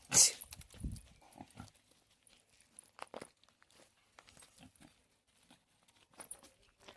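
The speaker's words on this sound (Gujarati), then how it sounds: "સુવર કહેવાય કે ભૂંડણા કહેવાય" Pigs at a rural home in Gujarat give a few short, faint grunts and snuffles near the start, then scattered soft rustling and movement over a quiet background.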